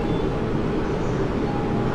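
A JR Saikyo Line train at Ikebukuro station gives off a steady low rumble and rolling noise, constant and moderately loud throughout with no voices.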